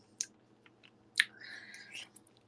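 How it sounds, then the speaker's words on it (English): Crisp, close-up crunching of homemade caramel popcorn: two sharp bites followed by a stretch of grinding chewing, all fairly quiet. "it's so crunchy. You hear me crunching on it?"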